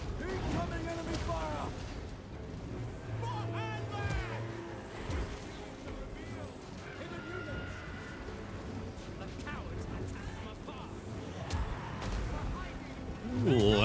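Cannon artillery fire in Total War: Warhammer 3, booming shots spread through a dense, continuous battle din with clashing effects and game sounds layered throughout.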